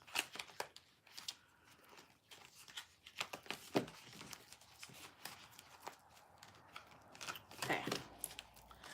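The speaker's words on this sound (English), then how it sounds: "It don't matter how much I shuffle." Tarot cards are shuffled by hand in a quiet room, giving soft, irregular riffling and slapping bursts that come and go, with faint rustles between them and no one talking.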